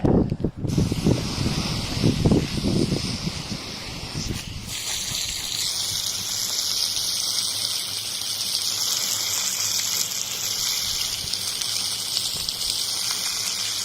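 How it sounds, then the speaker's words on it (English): A garden hose sprays water onto a hot tub filter, starting with a few irregular splashes and rustles, then settling into a steady, fairly loud hiss of spray for the rest of the clip. "Then get your hose and start firing away."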